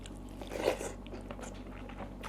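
Biting into and chewing a mouthful of Mon-style tom yum with pork leg, with one crisp, louder bite near the start giving way to softer, wet chewing, close to the mic.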